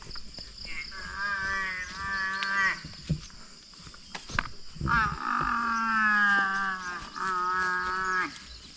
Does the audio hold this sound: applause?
no